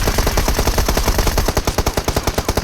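Rapid automatic gunfire from PUBG Mobile, a loud, steady stream of shots with a regular rhythm that grows sharper and more distinct in the second half, close and with no talking over it.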